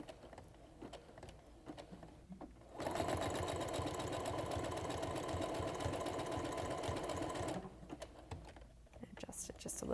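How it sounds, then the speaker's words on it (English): A sewing machine stitches a zigzag overcast along a fabric edge, a steady close whirring hum with a rapid mechanical chatter lasting about five seconds between quieter stretches of light handling noise and soft talk. "do the same thing on the other side, zigzag overcast stitch"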